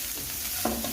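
Seasoned chicken filling fries in a pan, its continuous sizzle broken by a utensil scraping through it near the end.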